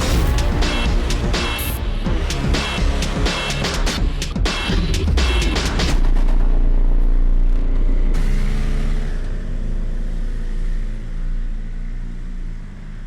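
A BMW M 1000 RR superbike runs on a test ground near Munich, its engine revving hard and shifting through gears in sharp bursts, then settling into a sustained high-speed roar.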